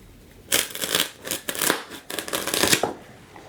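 Scissors snipping and crunching through a soft foam pool noodle in a rapid series of close, rough cuts.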